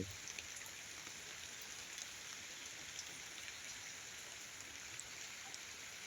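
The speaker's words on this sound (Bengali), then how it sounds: "আজকে প্রচুর বৃষ্টি আমাদের দিকে" Heavy rain falls outside a goat farm shed as a faint, steady wash of patter and hiss with scattered droplet ticks, continuous and distant, with no talking.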